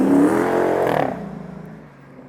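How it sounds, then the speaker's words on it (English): A fast car passes close by on a road, a loud broad engine roar sweeping past in about a second and then fading into a low rumble as it drives away. "here comes a fast car"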